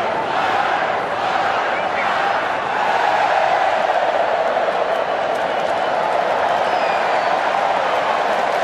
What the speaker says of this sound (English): Another terrific crowd.